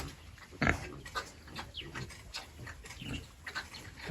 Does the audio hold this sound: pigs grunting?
yes